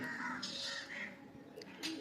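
Pigeons in a loft at Sankrail, Howrah, coo in low, rolling calls close by, with a few sharper bird notes mixed in over steady background noise.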